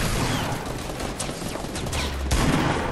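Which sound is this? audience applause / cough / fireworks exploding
fireworks exploding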